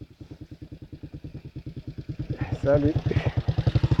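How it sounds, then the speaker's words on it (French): A motorcycle idles and rumbles close by on a street in Yaoundé, its steady engine pulsing before growing louder as it moves past, with a brief spoken greeting over it. "il y a un monsieur en moto là qui veut me cogner"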